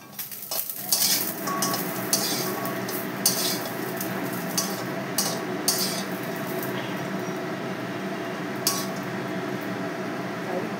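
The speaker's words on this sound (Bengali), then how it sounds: "এখন এই বড়িগুলো একটু নেড়ে চেড়ে নেব সামান্য" Pre-fried bori lentil dumplings are stirred in a hot wok, a continuous sizzle under repeated scraping and clinking of a spatula against metal, close and loud with no talking.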